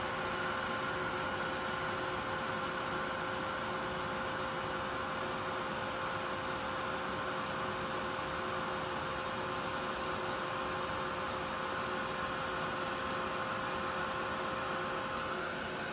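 An embossing heat tool blows steadily to melt embossing powder on a simple layered card. It makes a continuous close-up whoosh of hot air over an even electrical hum that holds without break and with no talking.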